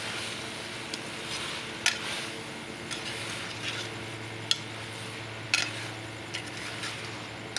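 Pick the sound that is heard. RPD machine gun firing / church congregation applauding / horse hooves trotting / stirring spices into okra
stirring spices into okra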